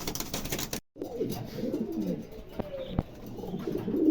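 A pair of Lahori pigeons, one blue barless and one grizzle bar, coo close by in soft, throaty rolling phrases over steady background hiss, with a brief dropout near the start and a sharp tap around the three-second mark.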